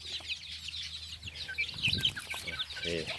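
White-eared chickens cluck softly in a coop or brooding cage, with short, scattered calls over a low background hum.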